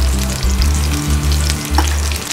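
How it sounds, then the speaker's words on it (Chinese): Red pepper and garlic fry in salad oil, a loud, steady close sizzle with crackling spatter and a low rhythmic hum underneath, and no talking. "倒点色拉油、红椒、蒜"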